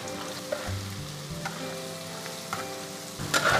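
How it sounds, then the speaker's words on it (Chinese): Sichuan chili bean paste (doubanjiang) hitting hot lard in a wok with pork head meat and Sichuan peppercorns, a loud continuous sizzle with spatula stirring and a scrape near the end. "来，肉熬香了哈，豆瓣下锅。"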